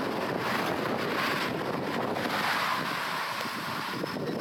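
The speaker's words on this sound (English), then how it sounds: "It's windy." Strong wind buffets the microphone while cycling through open farm country near Robbinsville, New Jersey, a steady loud roar of gusting air for the whole stretch with no talking.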